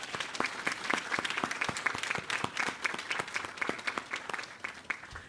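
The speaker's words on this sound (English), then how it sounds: "students, why don't you join me in giving our audience a round of applause?" Nursing students at a white coat ceremony applaud the audience with a rapid stream of sharp, distinct claps. The clapping holds fairly steady for about five seconds and thins slightly toward the end.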